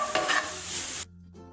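Small chicken pieces sizzle and crackle in a cast iron pan, loud frying noise with stirring, then dropping abruptly to a quieter hiss near the end.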